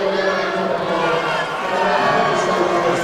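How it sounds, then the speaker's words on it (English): A boxing crowd at a professional show in Medway, Kent cheers and chants a fighter's name, a dense, steady roar of many voices filling the hall without pause. "you can hear the crowd chanting Chris Matthews' name"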